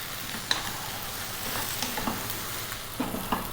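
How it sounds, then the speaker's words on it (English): Potatoes fry with soft sizzling in a pan, with occasional scraping stirs and light clinks, fairly quiet and close, no voices. "we're going to go for another sort of 4 to 5 minutes frying this around"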